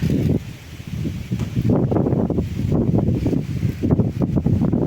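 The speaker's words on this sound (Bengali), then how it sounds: "কীরকম হাওয়া দিচ্ছে দেখুন" Gusts of wind rush through rose, jujube, date palm and coconut trees before a storm, in uneven surges, a rough rustling roar that rises and falls.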